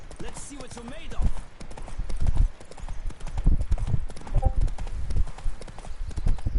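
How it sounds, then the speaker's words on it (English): Hooves of a galloping horse in the video game The Witcher 3 Wild Hunt pound in a fast, steady clip-clop rhythm, loud and near, with a brief neigh early on and someone talking over it. "Damn, these horses get tired so goddamn fast."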